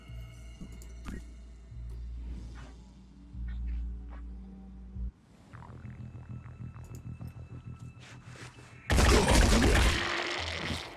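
Gunfire in the video game Phoenix Point, with bursts of rapid shots and thumping impacts, ending in a loud sustained blast of fire.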